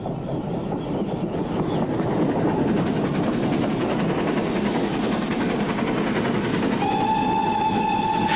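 A 1930s British steam locomotive train rumbles steadily past up close, wheels clattering continuously, with a sustained whistle tone sounding near the end.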